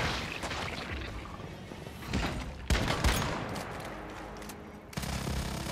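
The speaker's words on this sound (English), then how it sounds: "Oh god, he's shooting me" Enemy gunfire in a video game, rapid bursts of shots and crashing impacts over several seconds, loud and close, with a sharper blast near the middle and firing continuing to the end.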